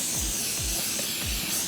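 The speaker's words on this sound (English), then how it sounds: "And then spray it across the fretboard." Short bursts of Finger-Ease string lube sprayed from an aerosol can onto a guitar fretboard, a close, steady airy hiss across the whole moment.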